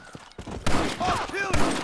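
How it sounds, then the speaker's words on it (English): Artillery fire erupts in a Red Dead Redemption battle, two heavy booming bursts with rumbling tails, while a voice shouts over the blasts and whistling tones streak through. "Artillery!"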